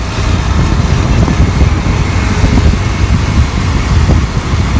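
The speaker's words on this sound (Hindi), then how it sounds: "फिरोज अपनी बाइक पे और मैं अपनी बाइक पे हम जा रहे हैं आज बद्दी" Motorcycles ride along a road, a loud, steady rumble of engine and wind noise with no talking.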